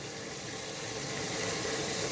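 Chicken curry masala with potatoes sizzling steadily as it fries in a pot, a continuous close hiss with no talk over it.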